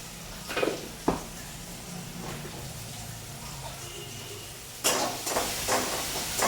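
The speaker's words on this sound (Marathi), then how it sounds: "कांदा आणि टॅमॅटो मात्र भाजून घ्यायचं" Onion and tomato roasting in a pan, a continuous soft sizzle with a few scraping stirs early, then a louder, brighter frying burst near the end as the pan is worked, close by and without talk.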